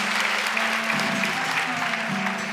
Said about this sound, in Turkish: sen niye alkışlıyorsun?